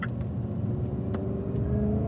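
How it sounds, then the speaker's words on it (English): Cadillac CTS-V on a racetrack braking and downshifting, a close, loud, continuous low engine rumble with rising revs and a few light clicks, no voices. "Good, braking and downshifting."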